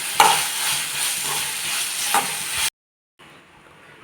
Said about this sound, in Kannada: ಸೊ ಇದು ಇವಾಗ ಫ್ರೈ ಮಾಡ್ಕೊಂಡಿದ್ದೀನಿ